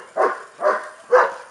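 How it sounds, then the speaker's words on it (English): Dogs barking at a backyard barbecue while ribs cook on a smoker, three loud, evenly spaced barks close by with no talk. "Pardon my dogs."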